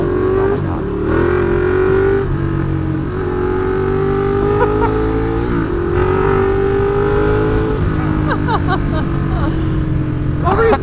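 A motorcycle accelerates hard, its loud, close engine climbing through rising revs with gear shifts for about eleven seconds, as people talk over the roar.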